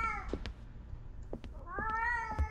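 A cat meows repeatedly in a horror video game, several drawn-out, wavering cries near and fairly loud over a low rumbling background, with no talking.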